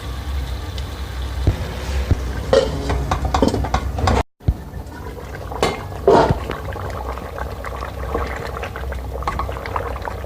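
Water is poured into a pot of taro root set to simmer in a home kitchen, giving splashing and gurgling pours with clinks of a utensil and a brief pause midway.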